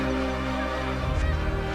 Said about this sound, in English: Manamanuk, the magpie goose, digs up the bulbs of the floodplain plants.